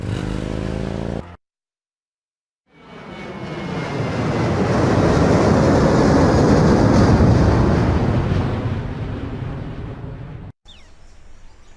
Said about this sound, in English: Gabriel picks up his tickets at the airport and boards a plane for Munich.